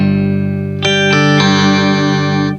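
Electric guitar run through an octave pedal, a sustained chord ringing alone, then two more strummed attacks at about 0.8 and 1.4 seconds thickening into a loud, doubled, effects-laden wash that holds until it cuts off.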